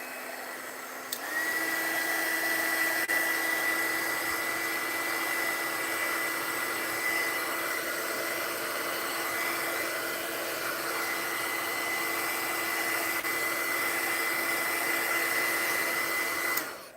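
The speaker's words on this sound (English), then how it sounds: "You can dry it with the heat gun, like I said." A heat gun drying glittery stencil paint switches on with a click and runs as a steady, loud whirring blow with a high whine for about fifteen seconds, then cuts off.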